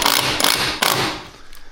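A screw is driven in to mount a Dewenwils retractable cord reel, heard as a loud, close mechanical whir broken by short bursts and catches, with no talk over it.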